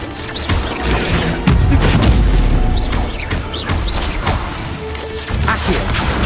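An Incendio fire spell cast in the wizard video game Wizardbois: a dense, continuous roaring blast with heavy low booms and crashing impacts, loud and close throughout.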